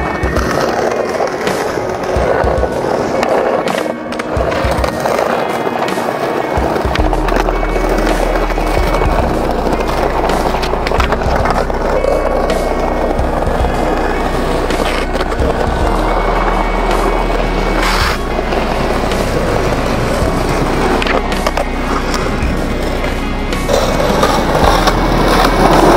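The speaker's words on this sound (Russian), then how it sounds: "И скейт царап" Skateboard with loose trucks rolls and grinds noisily over pavement, with rough scraping and clattering bursts over a continuous rumble close to the mic.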